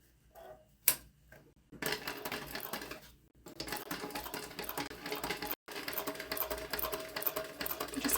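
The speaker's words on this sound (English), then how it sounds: "we're going to take this to the machine, and we're going to start stitching at the top of our top row stitching" A sewing machine stitches a fabric tote bag, running in close rapid bursts of needle clatter separated by short stops and quiet handling, with no talking.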